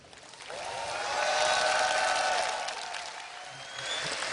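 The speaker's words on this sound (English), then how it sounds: "let's give another round of applause" An audience applauds at the close of a 32-player tournament at the Assembly 2013 event. The clapping is a dense, steady wash that swells and eases over a few seconds.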